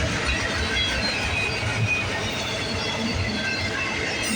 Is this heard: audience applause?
no